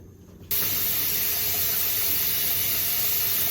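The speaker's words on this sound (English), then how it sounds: "Steam has been coming out of the vent for 10 minutes now, and it is flowing." Steam vents steadily from a pressure canner's vent while potatoes are dry-canned, a loud, even hiss that bursts on after a brief quiet moment and holds unbroken to the end.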